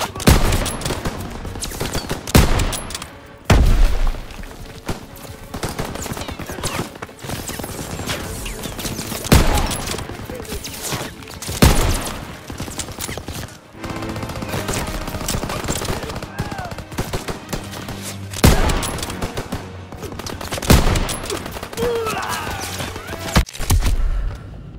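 Machine gun fire in the Call of Duty WW2 D-Day mission comes in bursts and heavy volleys amid battlefield chaos, with horse sounds and shouted voices mixed throughout.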